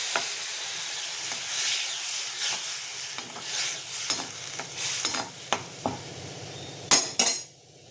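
Brinjal kara kuzhambu in a pan, with water just added and brought to a boil, gives a steady bubbling sizzle, broken by repeated scrapes and clinks of a spoon stirring against the metal and a couple of sharper knocks near the end.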